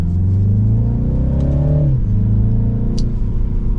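A 2024 Mini Cooper S Clubman All 4 pulls away in sport mode, its engine revving up loudly with a rising tone, then dropping briefly at a gear change before climbing again, close and clear with no talking.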